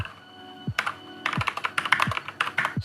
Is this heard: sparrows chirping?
no